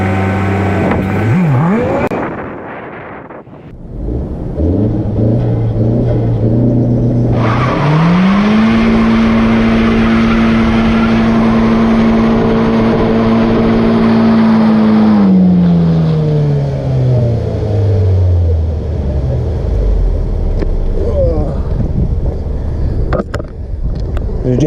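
A 2017 Honda Civic EX-T revs hard for a weak tire burnout, the engine climbing to a sustained high drone with tire noise, then dropping back down, loud and close with no talking.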